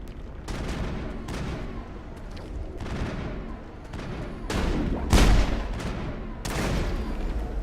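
Gunfire in the video game Mass Effect: a run of loud, booming shots at uneven intervals over a steady rumble of combat, with one heavier blast partway through.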